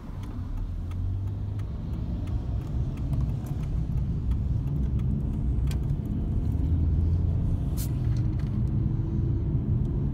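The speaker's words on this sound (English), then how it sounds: "Kis kamion, nagy kamion, személygépkocsi, atyaisten." Constant road traffic of cars plus small and large trucks on a busy Canadian road rolls past as a heavy, continuous rumble of engines and tires, with no voices over it.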